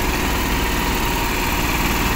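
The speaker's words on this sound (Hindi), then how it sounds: "आ देखो जी छोटा जि ट्रैक्टर, मिनी ट्रैक्टर देखो।" A small mini tractor engine runs steadily in a wheat field during harvest in Gujarat, India, giving a loud, continuous close-up drone with vibration and no voices.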